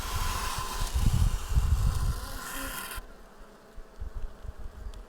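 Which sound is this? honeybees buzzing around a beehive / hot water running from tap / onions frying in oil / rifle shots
honeybees buzzing around a beehive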